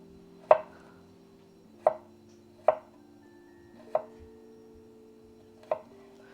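A knife cuts garlic on a cutting board with five crisp, separate chops at uneven intervals over a faint, steady hum in a quiet kitchen.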